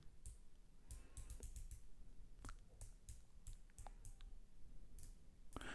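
A Nivada Grenchen watch bezel turned by hand: a quiet run of small, crisp clicks in uneven clusters, close up and faint over a low background hum.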